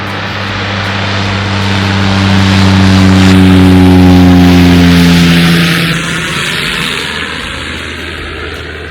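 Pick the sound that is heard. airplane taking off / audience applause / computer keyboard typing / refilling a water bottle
airplane taking off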